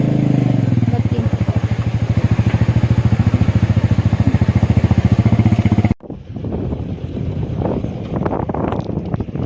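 Motorcycle ridden fast at around 80, a loud pulsing engine drone with strong wind buffeting that cuts abruptly and continues as rougher clattering rush.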